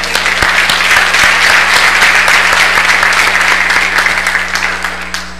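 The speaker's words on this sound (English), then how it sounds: "So this clapping is for the whole church." A church congregation claps loudly and steadily in a dense, continuous round of applause that tapers slightly at the end.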